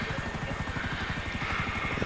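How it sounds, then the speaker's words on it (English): A helicopter hovers close by in a video game, its rotor blades thumping in a rapid, steady chop beneath a loud turbine whine throughout the short stretch. "Why is there a helicopter next to me?"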